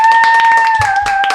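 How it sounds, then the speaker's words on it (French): Studio audience claps for Serena on a TV show, a short burst of several hands clapping over a steady tone. "Applaudissez Serena."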